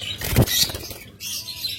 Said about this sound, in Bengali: এটা হলো ইয়েলো কালার লাভবার্ড